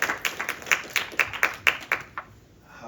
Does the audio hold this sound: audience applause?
yes